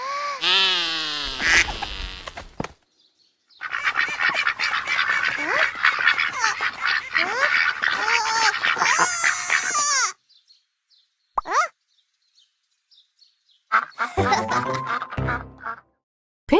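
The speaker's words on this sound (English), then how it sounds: "accidentally called a whole flock of ducks" A cartoon flock of ducks quacks loudly in long chattering bursts, crowded and close, broken by short pauses and a few isolated quacks.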